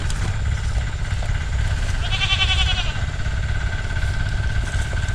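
A goat gives a short bleat while being fed indigofera leaves, a single brief call over steady outdoor engine-like rumble.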